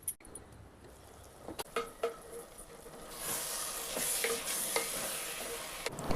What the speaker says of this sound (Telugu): ఇప్పుడైతే పసుపు యాడ్ చేసి బాగా కలిపి మూత పెట్టి కాసేపు ఉడకనివ్వాలి